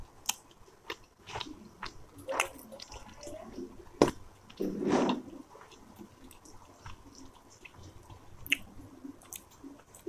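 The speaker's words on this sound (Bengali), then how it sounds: "ডালটা দিয়ে বড়াটা দিয়ে আগে খাই।" Someone eats a potato fritter with dal up close, producing soft, moist chewing and squishing sounds with a few sharper bites, quiet and irregular.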